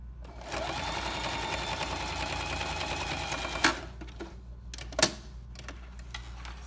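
A sewing machine stitches a seam along zipper fabric, running in a steady, fast, close whir for about three and a half seconds before stopping, followed by a few sharp mechanical clicks.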